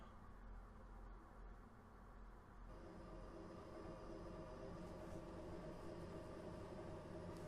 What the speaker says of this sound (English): Let the train go by.